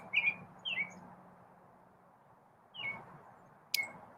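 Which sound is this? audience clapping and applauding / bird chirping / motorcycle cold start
bird chirping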